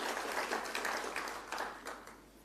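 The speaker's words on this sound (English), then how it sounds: "I think they also need a round of applause" An audience at a BRICS TVET institution forum seminar applauding, with dense clapping that comes in several swells and fades toward the end, fairly faint.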